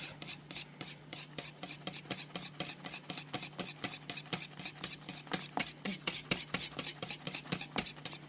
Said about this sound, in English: I'm trying to break up those egg yolks